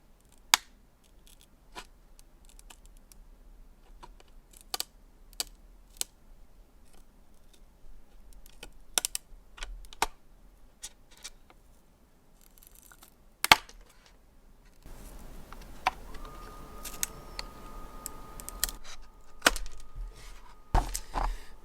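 Scissors trim the plastic body shell of an SCX24 Jeep JLU scale RC crawler, giving sharp, irregular snips and clicks close by, with a faint steady whine rising behind the later cuts.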